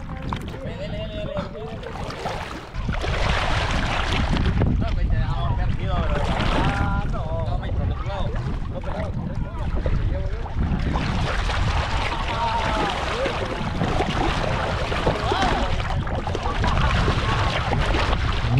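A motor boat ride on the Carolina reservoir, the motor droning steadily under strong wind buffeting on the microphone while people chat and call out over it.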